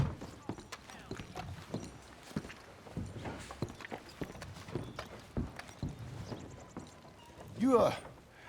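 Horse hooves clip-clop at a walking pace in the Western game Red Dead Redemption 2, a steady series of close hoof falls with voices talking over them and a brief louder horse sound near the end.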